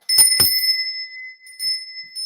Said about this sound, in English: I'm going to ring that bell.